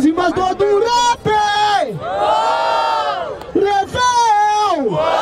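Crowd at a rap battle, a regional freestyle semifinal in Barueri, roaring and shouting loudly in sustained, swelling bursts that rise and fall over several seconds.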